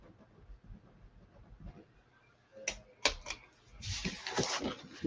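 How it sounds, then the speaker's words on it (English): A Chalk Couture transfer is scored along its cut line: a few sharp, close ticks, then a longer scratchy drag, following quieter handling sounds. "So I'm going to flip it over and I'm going to score it along the cut line."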